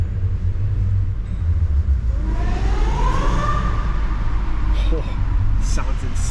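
A supercharged Nissan Sil-Eighty engine revs up, its whine rising and then falling back over a heavy, steady low rumble, with voices speaking near the car.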